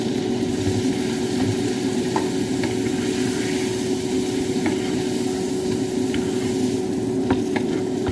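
Minced-meat patties or steaks fry in a pan, a loud continuous sizzle with a steady hum and occasional light clicks of a utensil, with no voices.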